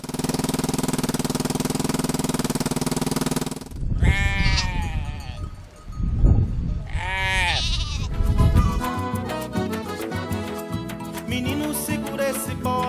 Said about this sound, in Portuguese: Menino, segura esse bode.